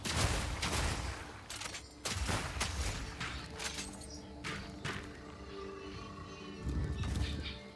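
Rapid bursts of explosions in the action game Path of Exile 2, with repeated loud blasts and crackling impacts in quick succession, fading in and out over a game soundscape.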